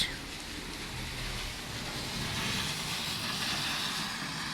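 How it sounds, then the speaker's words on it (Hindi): Heavy rain pours steadily over a village on a cold day, a constant soft hiss with no distinct drops or voices, unchanging throughout. "बारिश अच्छी खासी होने लगी थी"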